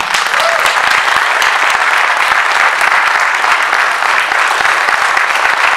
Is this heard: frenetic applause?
yes